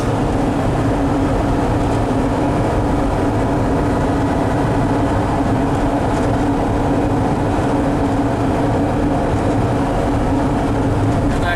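Interior drone of a 1974 Volkswagen Westfalia with automatic transmission on the move, a loud steady engine and road rumble that holds without break throughout.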